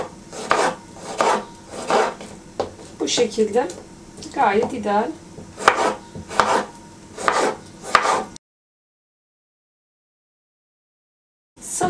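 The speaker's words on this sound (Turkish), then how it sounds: "Hemen doğramaya başlıyorum." Repeated knife chops on a cutting board in a steady rhythm, close up, chopping cucumber and vegetables for salad, with a voice speaking briefly among the cuts before sudden silence.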